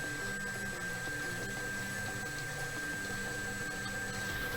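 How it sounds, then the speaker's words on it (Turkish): Turkish Şans Topu lottery draw machine churning numbered balls with a high-pressure air stream, a steady, loud, continuous whooshing roar with rattling ball clatter and a constant mechanical hum throughout, no voices. "toplarımız makinenin içine girdi ve yüksek hava akımı teknolojisiyle çekiliş elde etmeden gerçekleşecek"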